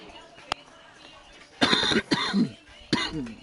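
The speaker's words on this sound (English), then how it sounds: "Oop, I'm coughing in the mic." A person coughs and clears their throat right into a microphone in a few sharp close bursts, with quiet background and some muffled talk between them.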